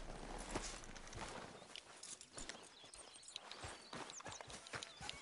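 Horse hooves walking in the video game Red Dead Redemption 2, an irregular clip-clop of steps with occasional snorts, fairly quiet and close, no talking over it.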